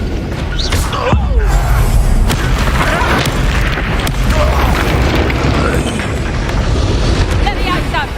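Bombarda blasting spell going off in Hogwarts Legacy, a loud booming explosion at about one second that rolls into sustained rumbling battle noise, with a voice shouting spell names over the din.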